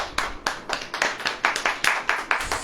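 A church congregation claps hands together during a sermon, sharp, fairly regular claps of moderate loudness repeating several times a second, with little else underneath.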